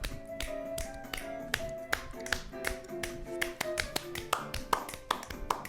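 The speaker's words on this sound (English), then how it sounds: "Never had clapping before." Sharp, fairly near hand claps and taps land in an irregular rhythm over tonal music with sustained notes, the claps standing out as distinct transients throughout.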